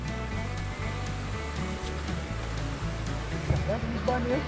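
Swift river current rushing beside a trail, heard from a moving motorbike, a steady broadband wash over low engine rumble with a brief voice near the end.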